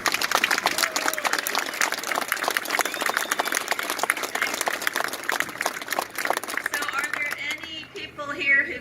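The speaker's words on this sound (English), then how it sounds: "Give her a big round of applause." Crowd applause at an outdoor Second Amendment rally in Columbus, Ohio: dense, sustained clapping from many hands fills the scene, steady and loud, with a few voices and cheers mixed in before it thins near the end.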